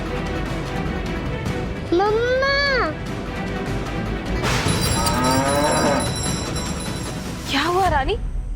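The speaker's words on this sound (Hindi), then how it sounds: "तुम इतना क्यों रंभा रही हो?" A cow lows in a farmyard, several long drawn-out moos at close range, with a louder rising call midway and a shorter one near the end, over steady background noise and some talk.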